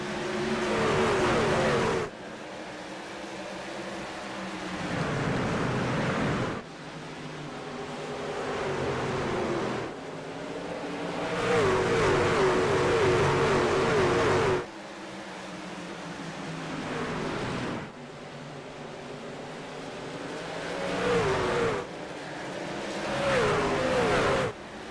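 Race trucks thundering around the Richmond short track under green flag, engines roaring loudly and continuously as the pack passes, pitch rising and falling with each shift and lap, with no speech heard.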